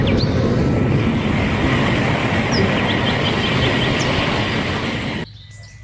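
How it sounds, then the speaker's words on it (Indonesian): A toy high-speed train produces a steady, loud broadband rolling rumble with faint high squeaks, running continuously before dropping away abruptly near the end. "Wih, ternyata ada kereta api cepat."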